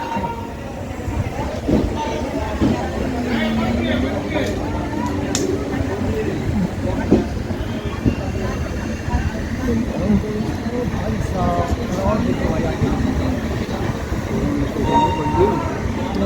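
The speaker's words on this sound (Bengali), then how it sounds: "এখন ট্রেন আমাদের ছাড়লো নৈহাটি থেকে" An LHB coach of the Sealdah–Ballia Express pulling out of Naihati station, heard from on board as a steady rumble with faint rail clatter under ongoing passenger chatter.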